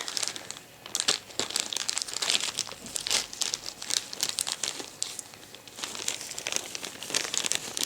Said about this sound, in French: j'ai eu des cadeaux, comme vous pouvez le voir. Donc on va déballer ça ensemble